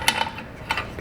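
A ratchet spinning to start bolts on a 2016 GMC Sierra drive shaft, giving a quick run of close metallic clicks with a couple of sharper bursts over about a second.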